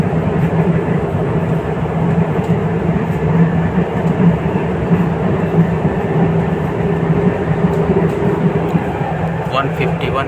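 An RRTS rapid rail train near Ghaziabad runs at around 151 km/h, heard from inside the carriage as a steady, loud low rumble and rushing roar with faint track clatter, continuous throughout.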